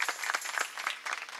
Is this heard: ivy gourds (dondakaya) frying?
no